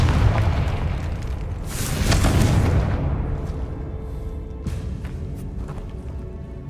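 A Confringo spell explodes in Hogwarts Legacy with a loud fiery boom that swells and then fades into a crackling rumble and scattered debris sounds.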